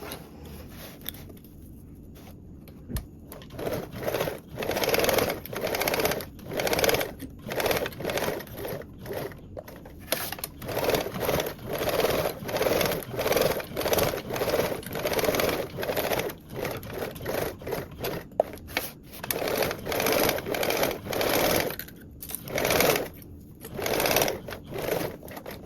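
A sewing machine bastes elastic onto a duffle bag panel in repeated short bursts of rapid stitching, starting and stopping in an uneven rhythm, close and fairly loud throughout.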